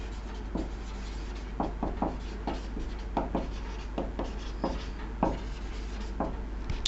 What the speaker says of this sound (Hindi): यहाँ पे लिख देता हूँ मैं